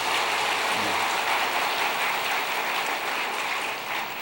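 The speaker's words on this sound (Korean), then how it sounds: "하나님께 영광의 박수 한번 합시다." A church congregation applauding God during a Sunday worship service, a dense, even roar of many people clapping together, filling the hall and sustained for several seconds without speech.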